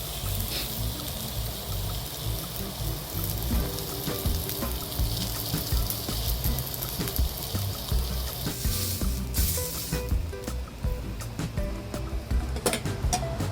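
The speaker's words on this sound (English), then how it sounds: "So you have to saute all sides and this side" Pork for chashu sautéing in a pan, a steady close sizzle and crackle of frying meat that runs continuously with small pops and bursts throughout, no talk.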